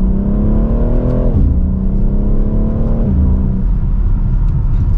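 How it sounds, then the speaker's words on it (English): A 2024 BMW X3M Competition accelerates hard from second gear in its most aggressive setting, a loud, continuous engine drone rising in pitch, dipping at a gear change, then climbing again. "Very light acceleration,"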